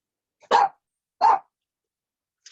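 A puppy gives two sharp, close barks a beat apart, then a tiny faint yip, with silence around them.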